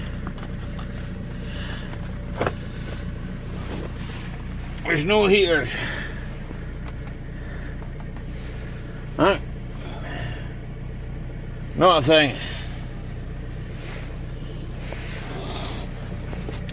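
An Audi A4 B6 TDI diesel idles after a cold start on a cold day, a low, even drone running steadily beneath brief bursts of someone talking.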